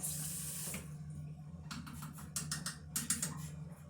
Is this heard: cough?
no